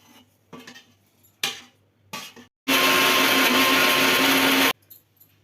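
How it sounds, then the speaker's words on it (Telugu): A kitchen mixer grinder whirs loudly in one continuous two-second burst, preceded by a few short knocks and clatters, as it grinds tempering spices with asafoetida and dried chillies for curry leaf chutney. "ఇవి వేసుకుని ముందు మిక్సీలో వేసుకోవాలి"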